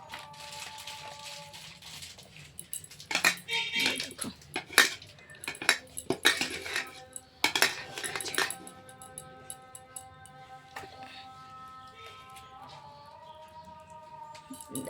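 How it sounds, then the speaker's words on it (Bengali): Biryani is served onto plates at home, with irregular clinks and scrapes of cutlery against dishes, close and fairly quiet, busiest in the middle and thinning to sparse taps. "বিরিয়ানিটা আমি বাড়ছি, সব প্লেটে প্লেটে দিচ্ছি"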